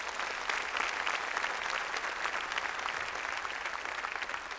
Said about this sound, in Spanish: denle un aplauso si quiere al Señor